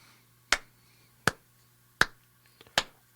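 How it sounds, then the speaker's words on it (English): Four sharp, isolated hand claps land evenly on the beat at a steady quarter-note pulse, close and clear against a quiet room with a low hum. "I can clap some quarter notes, right?"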